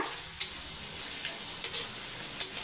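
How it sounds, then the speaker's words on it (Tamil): Onions sauté in a pan for a chicken fried rice dish, crackling with a bright continuous sizzle and a few quick stirring scrapes up close, with no voice. "இப்போ வெங்காயம் வந்து எயிட்டி பர்சன்ட் நல்லா வதங்கணும்"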